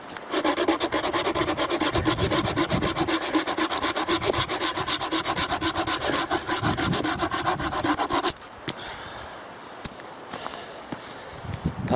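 Folding hand saw cutting through a wooden branch, a fast steady rasping stroke rhythm running loud and close for about eight seconds, then stopping and leaving quieter scattered handling noises.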